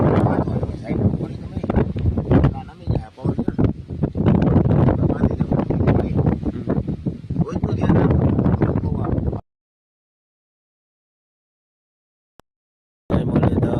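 Loud wind gusts buffet the microphone in an open farm field for several seconds, a rough continuous roar that cuts to sudden silence, then resumes briefly at the end.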